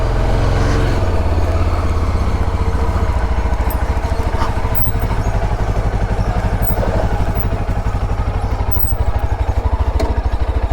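A Yezdi motorcycle engine runs loud and close at a steady idle, its rapid even thump continuing throughout, with a brief higher-pitched burst at the start and no voices.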